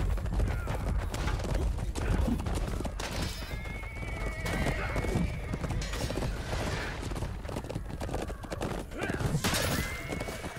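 Horses whinny and hooves clip-clop amid the clash of a medieval battle in the video game Chivalry 2, several neighs cutting through dense combat noise while players talk.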